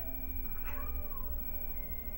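A cat meows in the video game Final Fantasy VII: a single drawn-out meow in the middle, quiet and set against a steady low background hum.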